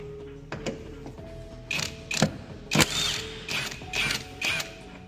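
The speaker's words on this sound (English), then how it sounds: "But now we can get the top nuts off, and that coilover should pop right out of there." Wrench working the top nuts off a coilover on a 1998 Honda Civic, heard as a series of sharp metallic ratcheting clicks and clanks in short bursts, close and fairly loud with no talking.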